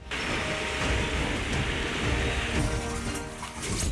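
Steady, heavy rain pours down during cyclone flooding in Kalaburagi, where city roads are waterlogged, forming a dense, continuous wash of noise with no voices.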